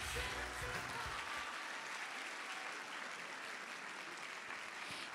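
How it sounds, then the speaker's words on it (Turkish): A crowd applauds at a university fashion show for Atılım University's fashion and textile design collection, with sustained broad clapping for about five seconds, fuller at the start and then settling into an even wash. "alkış"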